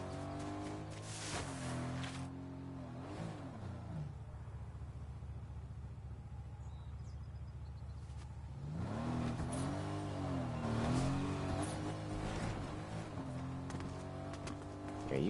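A car in Fortnite driving and revving, engine pitch climbing and falling in two bursts separated by a quieter idle stretch, moderately near and without talking.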